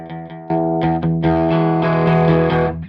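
An electric guitar plays chords through a 1993 Peavey 5150 amp with the crunch boost engaged, a gritty, boosted edge, strummed notes ringing loud and sustained.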